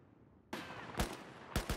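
Mortar explosions in the video game Battlefield 4: a sudden blast followed by several sharp booms in quick succession, loud and close.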